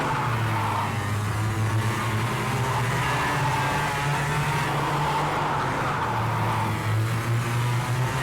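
A KT100 kart engine in the KartKraft racing game drones continuously at high revs, rising and falling slightly as the kart slides through corners, loud and close with no voices.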